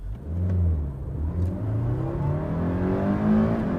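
A first-generation Toyota MR2 mid-engine sports car revs and accelerates up through its range, a strong mid-pitched growl that climbs in pitch as it speeds up.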